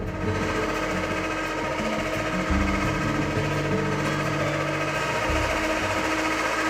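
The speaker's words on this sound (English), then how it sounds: "he's going to put just a little bit of milk in at a time while Matt uses the mixer" An electric kitchen mixer runs steadily with a continuous buzzing whir while milk is poured in a little at a time, close by and moderately loud, with small rhythmic changes in its drone.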